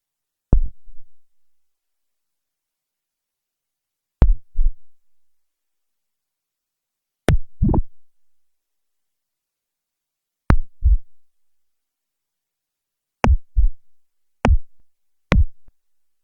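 Synthesized drum hits programmed in NanoStudio on an iPad ring out as short, punchy strikes in seven separate bursts. Each burst holds one to three quick hits, and clear silent gaps fall between them.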